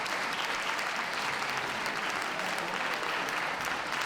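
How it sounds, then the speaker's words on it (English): A crowd at a dog show applauds the toy group finalists, a dense, continuous wash of clapping at steady volume. "Round of applause for them all, please"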